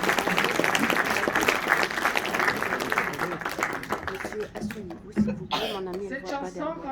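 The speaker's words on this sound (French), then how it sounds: "Vous pouvez l'applaudir," Audience applause at a tribute evening for actress Marisa Paredes, dense clapping filling the first few seconds and thinning out as a voice with chuckles takes over near the end.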